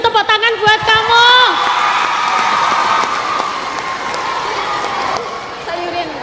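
An audience at a religious gathering breaks into applause and cheering, with scattered whoops and a rousing crowd roar that mixes with voices and gradually subsides.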